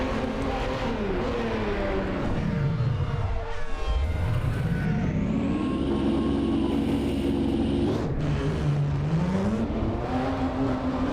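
A 1994 Formula One car in the pits in the video game Assetto Corsa, its high-pitched engine dropping to a low idle, then revving up and climbing steadily through the gears, loud and close throughout.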